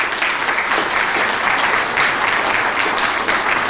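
Steady, dense audience applause from a conference crowd, many hands clapping at once in a continuous even roar lasting the whole stretch, with no voices breaking through.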